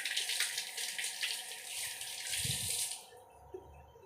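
Tap water runs steadily into a sink while prawns are washed under it, a close hissing splash that cuts off near the end, leaving faint handling sounds.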